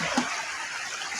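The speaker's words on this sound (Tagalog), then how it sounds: "malakas ang tubig" Strong river water rushing steadily, a continuous broad wash of flowing water close by with no voices.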